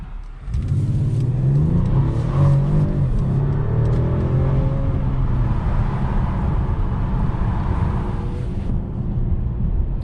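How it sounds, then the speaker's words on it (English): 2021 Mercedes-Benz E450 All-Terrain wagon with 4MATIC all-wheel drive accelerating hard with wheel spin; the engine roars up and holds a strong, steady rev for several seconds, heard close from inside with no talking. "there is a good amount of wheel spin, and mostly from the left"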